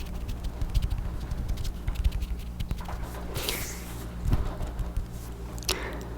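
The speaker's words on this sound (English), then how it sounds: "It's raining pretty hard right now" Heavy rain patters and spatters close by, with a low rumbling undertone and occasional louder splashes.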